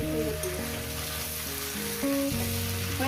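A curry of fish head and taro stolons cooks in oil with a low, steady sizzle, mostly buried under louder background music.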